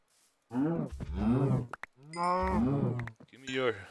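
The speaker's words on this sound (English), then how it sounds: "Hi cows. Actually, I need your leather." Cows in the video game Minecraft moo loudly and up close, three long drawn-out lowing calls in succession with brief gaps, heard alone without talk.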